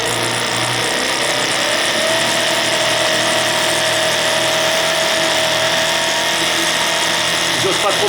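A model steam engine fed by a Scott double-flow boiler runs at speed, producing a loud steady whirring hum with a rising mechanical whine as it accelerates, close and continuous throughout.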